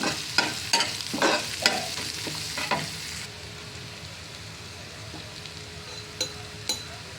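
Green chilies stirred and frying in a pan for a bean-seed and hilsa fish curry: scraping stirs and crackling sizzle for the first few seconds, then a quieter steady fry with a couple of later utensil taps.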